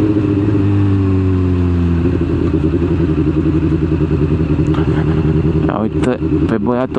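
A small scooter drones loudly past on a nearly empty city street early in the morning, its engine note holding steady before shifting, with clattering and brief noises near the end.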